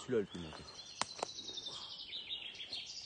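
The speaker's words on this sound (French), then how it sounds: "on entend bien les, les oiseaux les amis" Small birds chirp and whistle in the woods around a bushcraft camp. The calls are faint and fairly distant, a few sharp high notes over a quiet background, with a brief burst of voice at the start.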